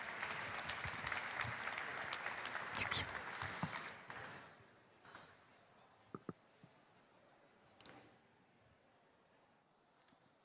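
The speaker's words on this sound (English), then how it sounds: "Please welcome Krystyna Fajczak with your applause" Audience applause at a Ukraine-related summit conference in Rzeszów, a broad wash of clapping for about four seconds that fades to quieter scattered noise, with a few faint sharp sounds afterward.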